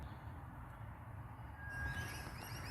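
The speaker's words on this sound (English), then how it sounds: "I can hear some traffic in the distance" Distant traffic rumbles as a steady low, far-off wash outdoors in nature, with faint bird calls above it in the later part and no talking.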